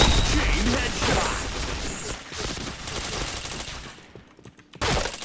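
Gunfire in the Point Blank shooter game comes as dense, rapid bursts that run almost unbroken, then thin out briefly near the end before a final loud burst.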